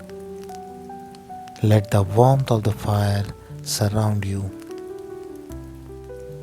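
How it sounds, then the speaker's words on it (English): Steady rain patters on a surface behind a calm narrator's voice in a relaxing bedtime story, with soft sustained musical tones underneath. "listen to the rain"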